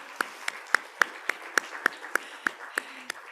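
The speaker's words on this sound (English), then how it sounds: "Can we have a round of applause for our facilitators online and in the room?" A single person claps alone at a workshop partners' meeting, about a dozen sharp, evenly spaced claps at moderate volume, with no crowd joining in.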